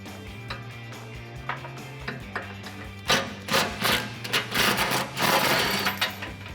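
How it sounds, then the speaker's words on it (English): An impact gun with an extension loosens bolts while a front bumper comes off a 2016-2018 Chevrolet Silverado 1500, with short ratcheting bursts building into longer loud rattling runs up close. "Use my impact gun and extension and get these off on both sides"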